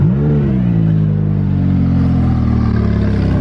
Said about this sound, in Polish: odpalimy auto i posłuchasz dźwięku wydechu